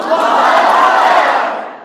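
A large crowd at a religious sermon shouting a takbir together, one loud sustained massed cry that swells and then fades out.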